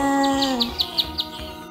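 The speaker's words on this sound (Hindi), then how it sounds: "चुन चुन करती आई चिड़िया" Bird chirps in a Hindi-Urdu children's nursery rhyme, six short evenly spaced tweets over a sustained musical backing, clear and moderately loud.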